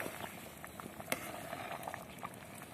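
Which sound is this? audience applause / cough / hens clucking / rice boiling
rice boiling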